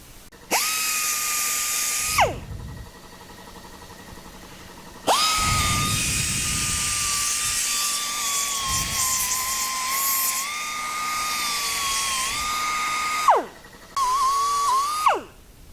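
A power drill with a rust-removal attachment whines at a high pitch as it strips flash rust from a Wilton C2 vise, in three long bursts separated by brief pauses and rattling contact noise.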